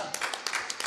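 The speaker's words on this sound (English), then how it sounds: "you should have given Jesus a clap for that" A church congregation claps during a sermon: about a second of scattered, uneven handclaps from several people, fairly close and moderately loud, with no talk over them.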